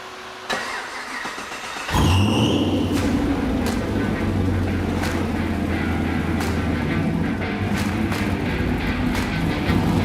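Naturally aspirated LS3 V8 in a Factory Five '35 truck cranks and fires after about two seconds, then settles into a loud, lumpy, choppy idle with a deep uneven rumble, close by.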